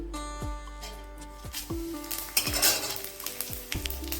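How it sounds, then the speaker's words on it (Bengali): Whole dry red chillies, bay leaves and cumin seeds hit hot mustard oil in a heated kadai, giving a steady close sizzle with a few metallic clinks and scrapes from a utensil against the pan. "কড়াই গরম হয়ে গেছে দিয়ে দেবো সর্ষের তেল এবার দিয়ে দেবো ফোড়নটা শুকনো লঙ্কা তেজপাতা"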